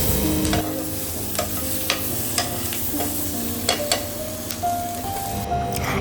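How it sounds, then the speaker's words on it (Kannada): Chicken frying in a pan over high flame, a bright continuous sizzle broken by repeated scraping and stirring strokes, close up and without speech. "ಸೊ ಹೈ ಫ್ಲೇಮಲ್ಲೇ 1 to 2 ಮಿನಿಟ್ಸ್ ಚೆನ್ನಾಗಿ ಫ್ರೈ ಮಾಡಿಕೊಂಡ್ರೆ ಸಾಕು."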